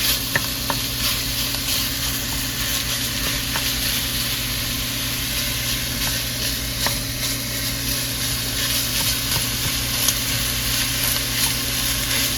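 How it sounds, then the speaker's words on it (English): Sausage meat browns over medium-high heat in a soup pot while being stirred, making a loud, constant crackling sizzle with scattered scraping strokes throughout. "start stirring it up and browning it up"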